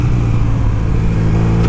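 Car fitted with a Two Brothers exhaust revving, a loud, close, throaty engine note that holds a steady growl and rises slightly toward the end.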